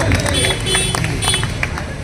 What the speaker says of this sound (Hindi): हो रहा तालियों से स्वागत